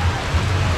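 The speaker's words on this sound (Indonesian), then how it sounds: "Hujan ya?" Steady rain pours down at an outdoor market stall in Pulogebang, Jakarta. It makes a loud, dense, continuous hiss with a low rumble underneath, with no pauses across the short stretch.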